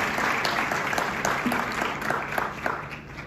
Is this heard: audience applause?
yes